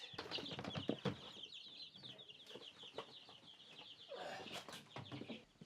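Chickens cluck and chatter close by, a busy overlapping mix of short calls with occasional rustling and wing flaps.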